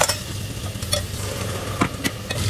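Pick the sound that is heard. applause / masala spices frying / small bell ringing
masala spices frying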